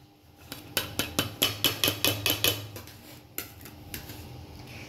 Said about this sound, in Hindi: यहाँ कट रहे हैं टमाटर